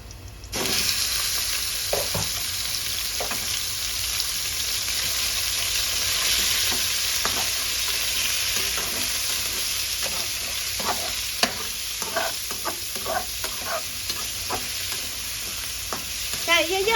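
Pork and cabbage stir-frying in a pan, a loud continuous sizzle with repeated scraping and clinking of a spatula turning the food, close up and without talk.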